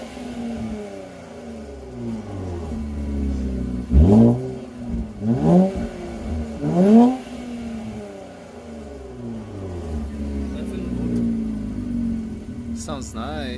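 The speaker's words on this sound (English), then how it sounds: "Alright, give us some revs." An Infiniti Q50/Q60 with an Ark Performance exhaust idles with a deep exhaust burble, then revs sharply three times in quick succession before settling back to a rumbling idle.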